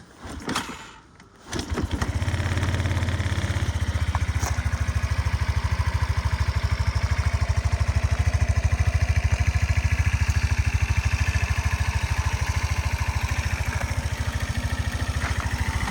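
A Suzuki Address V125S scooter engine starts up and settles into a steady, close idle with an even rhythmic putter that runs on alone for the rest of the clip.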